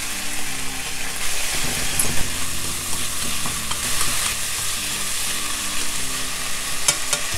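Onion stir-fried with garlic and ginger in a pan makes a continuous close sizzle, overlaid by repeated spatula scrapes and stirring strokes throughout, with no one speaking.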